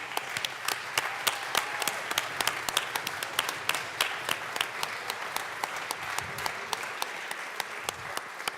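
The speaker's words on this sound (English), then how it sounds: "Round of applause for the class of 24." Colorado House legislators applaud in the chamber for a class of members, a close, crisp round of individual sharp claps standing out over a denser clapping bed, steady for the whole stretch.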